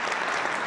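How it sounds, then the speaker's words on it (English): Steady applause at a political gathering in Ottawa, a dense, even wash of clapping with no break, heard briefly and fairly close. "Applause in Ottawa"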